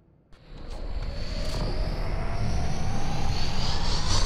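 A spaceship in the game SpaceBourne 2 lifts off, its engine swelling from a sharp start into a loud, steady jet-like roar with a faint rising whine, sustained and close throughout.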